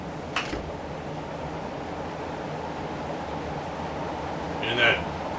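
An Encon Crompton Greaves High Breeze Classic 48-inch ceiling fan runs at high speed with a continuous airy whooshing hum. Two short knocks from the mounting break in, one near the start and one near the end.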